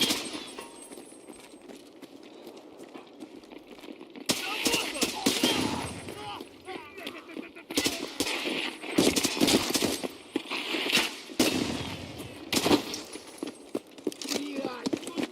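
A mounted machine gun hammers in rapid bursts in a video game firefight, loud and close, with shooting starting partway in and recurring in several clusters.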